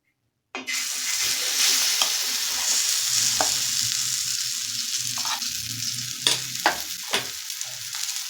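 Steady frying sizzle starts abruptly as moong dal chilla batter hits a hot griddle, continuing loud and close throughout, with occasional sharper crackles and pops.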